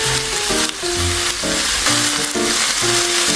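Vegetables for beef pilaf sizzle loudly and close in a hot pan, a dense continuous frying hiss broken by repeated clanking stirs of a utensil, with no voices.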